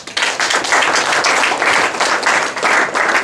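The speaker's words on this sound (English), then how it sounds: "can we give a hand of applause to them?" A wedding reception crowd applauds the newly married couple in a sustained, loud burst of many hands clapping, swelling in waves and holding for several seconds.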